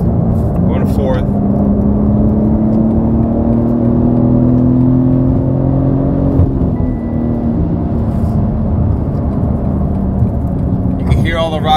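BMW G80 M3 in Sport Plus mode with AWE non-resonated mid-pipes, dropping from sixth to fifth to fourth on a highway: a loud, steady engine drone with rising pitch, wind and road noise throughout, and a driver talking over it.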